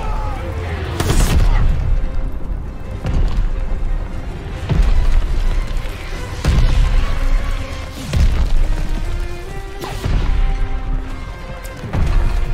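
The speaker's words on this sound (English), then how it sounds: "the Royal Navy is shooting a lot better than they usually do today" Royal Navy ships fire from offshore during a D-Day mission in CoD: Vanguard, with heavy booms repeating roughly every one to two seconds over a constant rumbling battle din.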